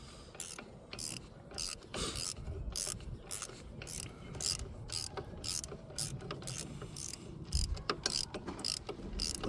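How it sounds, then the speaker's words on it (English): Wrench tightening the brake caliper bolts on a 2010 Renault Twingo during a pad and disc change: a run of close, sharp metallic ratcheting clicks and scraping tool contacts in irregular bursts, with no voices. "I'm just using my wrench here to get it put on properly"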